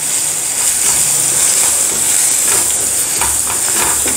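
A spiced potato vegetable mixture with asafoetida and coriander is stirred in a hot pan for chilli vada filling, giving a loud, constant sizzling hiss with faint scraping, and no voices.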